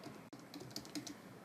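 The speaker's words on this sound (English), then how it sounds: "I'm just going to type http" Quiet, close typing on a computer keyboard, a quick run of soft key clicks over about a second and a half, no talk.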